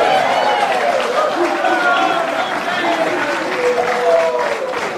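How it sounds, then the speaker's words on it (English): Steady applause from a football club awards audience fills the whole stretch, with bright vocal tones and cheering layered over the clapping. "Glenunga fans, big round of applause for Abe."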